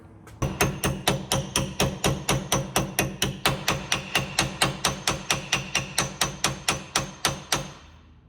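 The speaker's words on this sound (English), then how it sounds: "Get a little started with this rubber hammer." Rapid, steady blows of a rubber mallet driving a bearing onto a Suzuki Samurai front axle kingpin, about thirty dull thuds in an even rhythm, close by with no talking.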